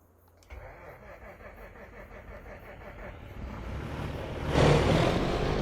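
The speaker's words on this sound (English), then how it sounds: "I gotta jump in the old Peterbilt, which is over here somewhere." An old Peterbilt truck's diesel engine cranks in a steady rapid rhythm for several seconds, then catches and roars up to a loud rumbling idle, close by and with no voices.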